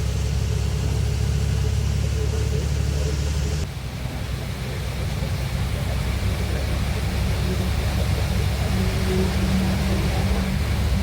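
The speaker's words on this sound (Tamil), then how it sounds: "ஆனா வண்டி திணறுது" A heavily loaded truck carrying tiles labours on a rise in Telangana, its engine a steady, dense low rumble with road and wind roar throughout and a brief dip in level partway through.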